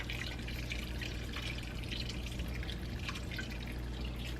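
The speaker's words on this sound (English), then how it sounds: "I'm going to add some water to that as well." Water running into a pot of potato soup with potatoes, a steady close splashing and trickling pour with drips that continues evenly throughout, no talking.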